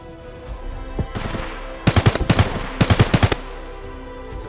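Automatic rifles fire in Escape from Tarkov, a few faint distant shots followed by two loud, close bursts of rapid fire separated by a short pause.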